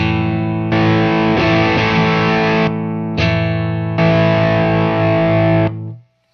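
An electric guitar played through a distortion effect pedal sounds thick, sustained, buzzing chords, loud and close, in several held blocks with brief gaps before fading out.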